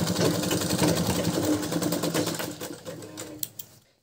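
An electric sewing machine stitches the folded hem of a lungi, a close, fast, even whirring chatter that runs steadily, then slows and stops, leaving a couple of small clicks near the end.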